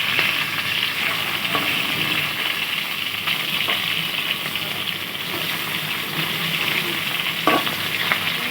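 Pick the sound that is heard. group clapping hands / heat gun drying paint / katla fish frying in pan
katla fish frying in pan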